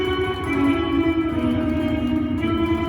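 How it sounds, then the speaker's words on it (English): A deep spring reverb with a very long decay wash sustains dense, droning tones, loud and continuous throughout, with a lingering echoing tail and no clear attacks. "I have a kind of a deep, a really long decay spring reverb for a couple of them"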